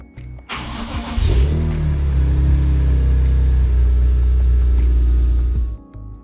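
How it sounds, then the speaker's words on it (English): A car engine cranks briefly, then fires into a loud, deep, steady idle that rumbles on for several seconds before cutting off. "it's an event when you start it up, especially when you cold start it."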